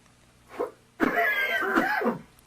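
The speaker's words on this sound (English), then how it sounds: "First, the coughs." A single short cough, then a longer harsh coughing burst with throat-clearing rasp, close and fairly loud with no talking.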